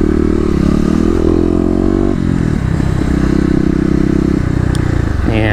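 A Kawasaki KLX250 motorcycle engine tuned with an EJK fuel controller revs loud and close, its pitch rising, dropping and climbing again through a steady, unbroken roar with no talking.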